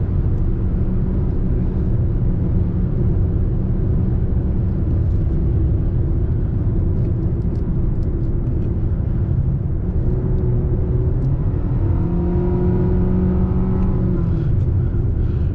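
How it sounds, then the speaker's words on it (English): Nissan Sentra SV engine growling under full throttle from inside the cabin, a steady loud low rumble that rises in pitch late on as the car accelerates. "you get a little growl from the engine under full throttle, but it's not bad"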